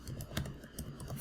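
Quick, light keystrokes on a computer keyboard while writing code, a soft rapid patter of clicks heard close and quiet with no voices.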